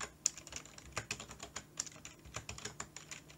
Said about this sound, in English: I'll just type in some numbers and I'll type in some numbers here.